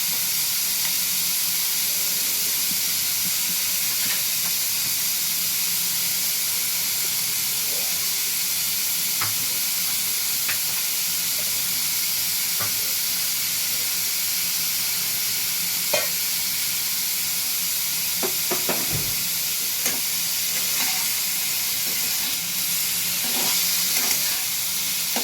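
Paneer cubes tossed and stir-fried in a pan give a steady, continuous sizzle and hiss, broken by occasional soft scrapes and clicks from stirring, with no talking.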